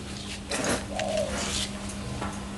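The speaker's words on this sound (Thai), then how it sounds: "มา ฟังเสียงนกเขาขัน" A dove coos outdoors in a Thai rural setting, giving a short, soft, low-pitched call that rises and falls once, fairly near, over steady background noise.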